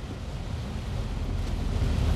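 Rain and wind heard from inside a truck cab loaded with over 25 tonnes, a steady low rumbling wash of noise that builds slightly over the few seconds, with no clear individual drops.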